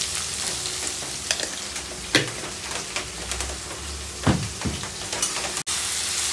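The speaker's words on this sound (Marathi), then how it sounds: "कांदा परतून घ्यायचा आहे." Onion fries in a pan with a steady, close sizzle and occasional scraping stir strokes, with no voices over it.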